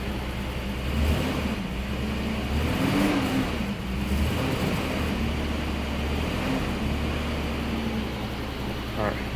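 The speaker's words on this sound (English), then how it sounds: "it's stumbling as soon as I try to give any throttle, so let's let it warm up, let it run for a second here" A Jeep XJ with a newly installed engine idles with a low, wavering drone that stumbles and surges unevenly when throttle is given, close by, with brief talking.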